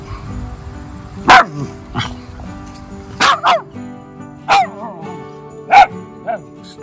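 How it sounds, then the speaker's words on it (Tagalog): A dog barks in short, sharp, separate bursts at close range, roughly five or six barks spaced unevenly over a few seconds against a steady low background hum. "nauliligan niyang tumatahol ang aso"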